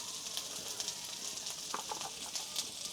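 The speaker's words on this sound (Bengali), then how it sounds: "একটু ভেজে নেওয়া হচ্ছে আলুগুলো" Potatoes frying in a pan, a faint steady sizzle with soft crackling pops close by, no voices.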